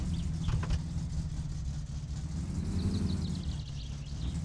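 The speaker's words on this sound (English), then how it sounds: "The engine just sounds much better, you know?" A car engine with a freshly tuned carburetor, in the video game My Summer Car, drones steadily as the car drives, with a slight swell in engine note midway, continuous and fairly loud.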